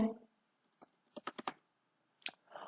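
Four quick, close keystrokes tap numbers on a computer keyboard into a LibreOffice Calc spreadsheet, with a single earlier click and brief speech just before and after.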